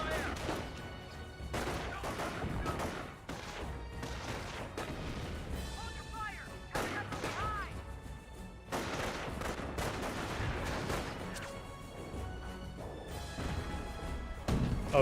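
Rapid rifle and machine-gun fire crackles through a Company of Heroes battle, with dense overlapping bursts and booms running continuously under a talking voice.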